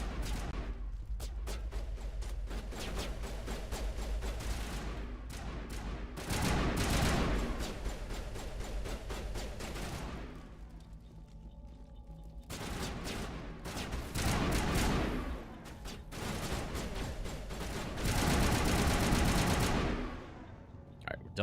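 Gunfire in the Mass Effect video game: loud bursts of rapid automatic fire in several long volleys separated by brief lulls, dense and sustained, with no talk over it.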